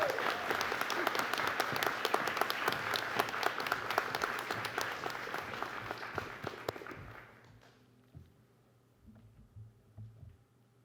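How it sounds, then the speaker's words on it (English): Audience applause at a graduate school commencement ceremony, a dense steady wash of many hands clapping in a large hall that fades out after about seven seconds, leaving faint room noise and brief murmurs. "Another round of applause."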